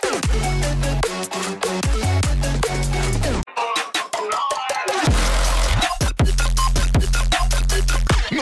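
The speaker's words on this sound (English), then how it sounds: "Here's an example of a crunch bass." A dirty crunch bass synth made in FL Studio 20 plays a loud, distorted, gritty line in repeated rhythmic stabs and sustained notes, with brief gaps, alone and without voices.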